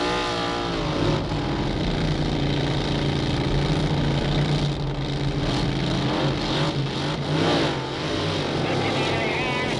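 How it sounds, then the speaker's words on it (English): Supercharged Oldsmobile and Chevrolet drag racers idle and rev on the starting line at a 1962 drag meet, a loud, rough engine rumble that holds steady and swells in bursts over the full length, with a voice talking over it. "Supercharged Oldsmobile and a supercharged Chevrolet on the starting line now."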